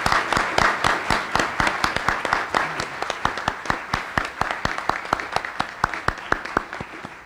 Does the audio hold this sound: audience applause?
yes